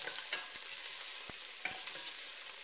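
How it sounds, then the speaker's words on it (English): Vegetables with carrots sweating in a pot, a soft continuous hiss of gentle frying with occasional light spoon taps and stirring scrapes, quiet and close with no talk. "So what we're going to do is we're just going to sweat these a little bit, okay?"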